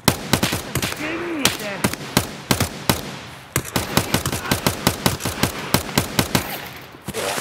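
Rapid bursts of gunfire in Escape From Tarkov, sharp cracks repeating in quick uneven volleys, close and loud, with occasional voices in between.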